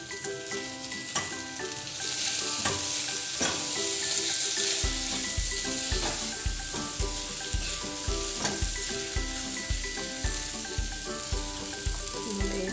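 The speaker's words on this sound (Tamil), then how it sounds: "பூண்டு நிறைய நறுக்கி வச்சுட்டு அதை போட்டு வதக்கணும்" Garlic and shallots sizzle and fry steadily in hot oil in a pan while cooking a chundakai puzhi kulambu, a continuous loud hiss with occasional stirring clatter, no talk.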